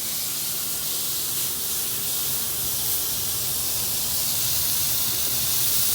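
A steak sears in a hot pan, giving a steady, close, continuous sizzling hiss that holds at an even level throughout and grows slightly louder near the end, with no talking.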